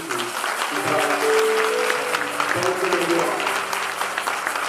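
A church congregation at a Pentecostal convention communion service applauds, a broad sustained clapping from many people in a large room, with voices and faint tones beneath it.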